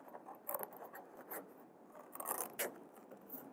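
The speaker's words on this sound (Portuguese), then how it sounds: "E agora nós vamos recortar o nosso jogo da memória." Blunt-tipped children's scissors cut out paper memory-game cards, giving repeated soft snipping and rustling scrapes, close and fairly quiet, with no talking.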